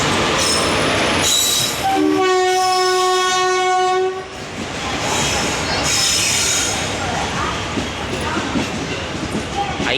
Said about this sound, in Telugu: సో గైస్ మా ట్రైన్ వచ్చేసి ప్లాట్ఫామ్ నెంబర్ 8కి వచ్చేసింది